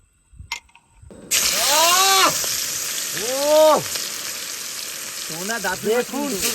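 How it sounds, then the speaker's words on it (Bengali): Oil poured into a hot wok for frying over a kilogram of fish at a night riverside picnic in the Sundarbans: a sudden loud, steady sizzle with crackling, close by, while background voices call faintly in a chanting rise and fall. "কড়াই বন্ধুরা গরম হয়ে গেছে, এবার দিয়ে দেবো তেল।"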